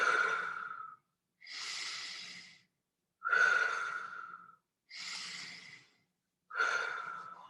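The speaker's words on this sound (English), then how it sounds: "remember in through the nose, out through the mouth, nice, big, full, deep breaths." Five slow, deep breaths close to the microphone, alternating airy inhales through the nose and longer exhales through the mouth, each separated by brief silence.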